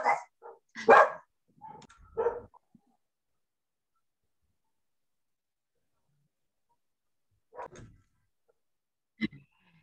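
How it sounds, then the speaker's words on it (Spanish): Dogs at an environmental association barking: a few loud, close barks in a burst at the start, then a long quiet gap and two more isolated barks later. "esos son mis perros"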